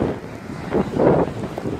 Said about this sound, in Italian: Guardate oggi che vento che c'è qua a Fuerteventura.